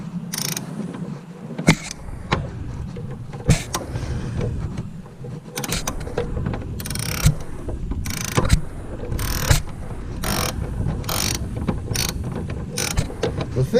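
Wrench work loosening a bolt on a Toyota Camry L engine during timing belt, oil pump and crank seal service, heard as repeated ratcheting clicks and metallic clanks in bursts over a steady low shop hum, close and fairly loud.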